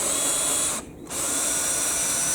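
A power drill bores into wet wood while building a deck and fence, whining steadily and loudly from close by with a short dip in the middle where the bit slows.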